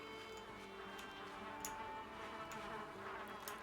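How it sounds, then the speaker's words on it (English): Bees buzzing around a beehive in the video game Valheim, a faint steady insect drone running throughout with no talk over it. "why do I hear bees?"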